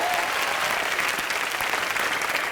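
Loud, sustained applause from a studio audience on a Hindi comedy show welcoming sports star guests, dense clapping filling the room without a break.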